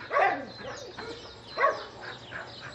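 A few dogs at an animal shelter give sharp barks and yelps in two or three bursts, moderately near, with quieter gaps between them.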